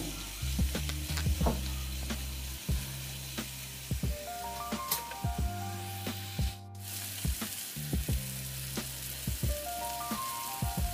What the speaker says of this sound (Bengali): আরও খুব ভালোভাবে এটাকে নাড়িয়ে চাড়িয়ে নেব।